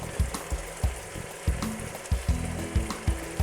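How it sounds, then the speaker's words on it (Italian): Sausage pieces fry with potatoes in a pan, giving a steady sizzle. Regular knocks of a spoon stirring against the pan recur about every half second. "Dopo circa 7-8 minuti possiamo aggiungere anche la salsiccia che abbiamo fatto a pezzettini prima"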